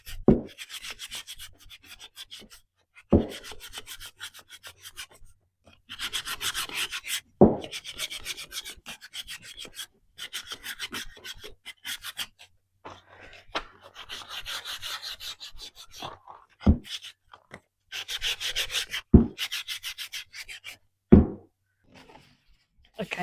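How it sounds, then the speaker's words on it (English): Painted wood hand-sanded with 220-grit sandpaper: repeated close scratchy rubbing strokes in bursts, broken by sharp knocks of the block or piece against the surface. "I'm just going to go in and sand it. I'm going to hand sand it"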